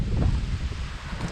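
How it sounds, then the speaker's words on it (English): Wind blows across a hiking trail near waterfalls, giving a loud, continuous low rumble and buffeting against the microphone with no voices. "Nice and windy though. Nice wind picking up."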